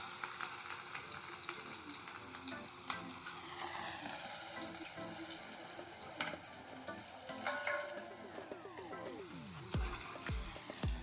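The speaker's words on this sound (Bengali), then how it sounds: "ভালো করে আমি ভেজে নিচ্ছি।" Salted, turmeric-coated fish pieces fry in oil, producing a continuous gentle sizzle with occasional spits and pops, punctuated near the end by a few sharper clicks and knocks, with no talking.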